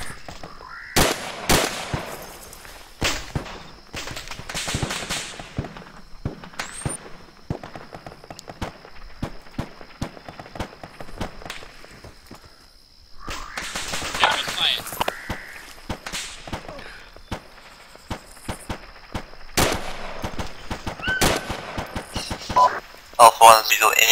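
Soldiers firing weapons in a military video game, scattered sharp cracks and short bursts throughout, mixed with radio chatter and voices talking over the shooting.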